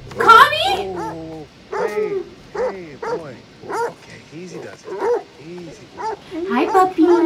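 Dog barking in The Devil in Me video game: a run of repeated yipping barks and whimpers at close range, roughly one every half second, with a voice at the start.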